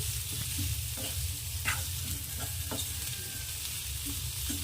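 Boiled potatoes gently stirred in a pan over a low flame, a continuous low frying hiss with light, irregular spoon scrapes and taps, close by with no talking.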